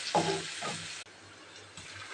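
Onion frying in oil until reddish-brown, a soft steady sizzle with a couple of brief stirring scrapes near the start, close by and fairly quiet, with no voices.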